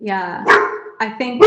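A dog barks several times in the background during a conversation, with sharp yaps breaking in between and over a person speaking close by.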